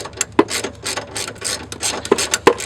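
Ratchet clicking in short bursts while breaking loose a 10mm nut on a cable bracket of a Mazda 3, close up and fairly loud, with repeated quick pawl clatters.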